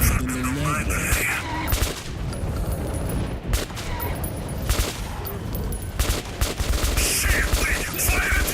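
Heavy sustained gunfire in Metro 2033 Redux, loud overlapping automatic bursts and shots crackling continuously throughout, with occasional shouting voices in the mix.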